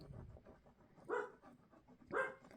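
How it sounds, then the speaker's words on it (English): A dog plays outdoors across the street while its owner throws a frisbee, giving two short, distant barks spaced about a second apart over faint background noise. "The dog across the street is out playing with her daddy."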